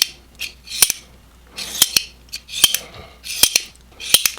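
Reate EXO-M titanium gravity knife being repeatedly flicked open and locked, giving sharp metallic clicks and snaps in quick pairs at close range, about five cycles with faint sliding rasps between, no talk.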